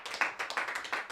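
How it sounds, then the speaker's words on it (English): An audience claps briefly, a quick run of close, bright hand claps lasting about a second with no talk over it. "Oh boy, let's give a clap."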